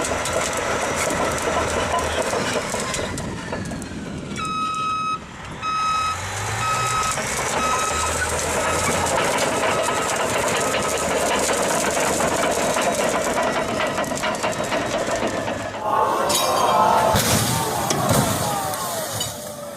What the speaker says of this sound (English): The Caterpillar D11 is one of the largest mining bulldozers on the planet